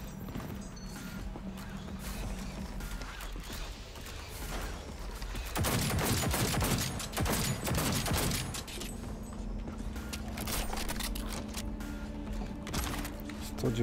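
Rapid bursts of gunfire in Cyberpunk 2077 crackle over a steady mechanical background, growing denser and louder midway before easing into scattered shots.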